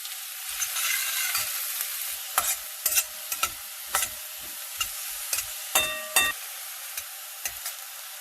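Chopped onions fry in a pan on a medium flame, a bright continuous hiss punctuated by irregular scraping and tapping strokes of a spoon, close and alone without speech.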